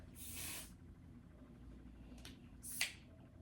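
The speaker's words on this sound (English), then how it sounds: "Literally just broke out the one size spray." Makeup setting spray hisses from a bottle in two short, close bursts, the first longer and the second quick and sharp, with quiet room tone between.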